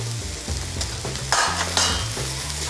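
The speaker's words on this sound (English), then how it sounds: "Let that roast for a bit." Oats upma mixture of oats, salt and turmeric roasting in a pan, with a steady gentle sizzle and repeated scraping stirs, plus a couple of louder stirring scrapes midway.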